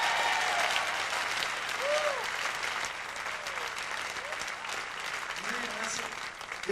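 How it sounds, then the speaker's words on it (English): A church audience claps steadily in praise at a gospel concert, dense sustained applause filling the hall with faint crowd murmur underneath. "Let's give Jesus a big hand clap of praise tonight."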